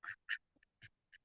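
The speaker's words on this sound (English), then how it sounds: "They look like mallard ducks" Mallard ducks quacking in short bursts: about five brief nasal calls spaced irregularly over a second, fairly faint and close, with no talking.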